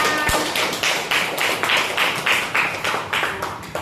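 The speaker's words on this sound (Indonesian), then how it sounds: "kasih tepuk tangan untuk Hisam" Students applaud a classmate in a classroom, giving a rhythmic round of hand claps from a small group, close and fairly steady, with no talk over it.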